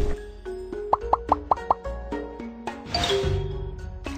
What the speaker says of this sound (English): Put those dumplings in the frying pan.